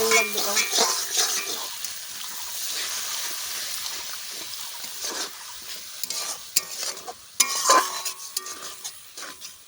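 Butter egg masala curry being stirred in a pan, with a soft sizzle and scraping of the spoon against the pan, a few sharper clinks of metal near the end.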